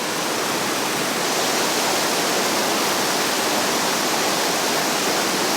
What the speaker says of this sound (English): They'll be working their way down this massive rapid.